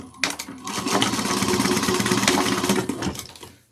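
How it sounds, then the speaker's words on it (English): A sewing machine runs in one continuous burst, stitching the raw short ends of a bag handle together at a 3/8 inch seam, a loud, close, rapid mechanical whir that starts abruptly and winds down near the end. "The 2 short ends that are raw together, we're going to sew that down at 3/8 of an inch"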